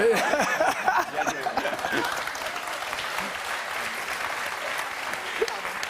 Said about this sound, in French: Lucas applaudit.